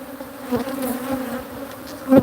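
Honeybees buzz around an open beehive during a quick hive check, a steady close drone with shifting pitch that swells louder near the end, no voices.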